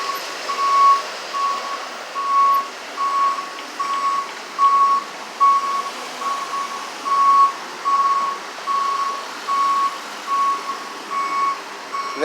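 Trucks backing out at an MBTA work site, their reversing alarms beeping in a steady, evenly spaced series. The beeps are loud and continuous throughout, over a low engine rumble.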